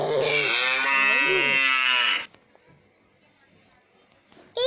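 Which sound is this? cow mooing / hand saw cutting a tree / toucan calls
cow mooing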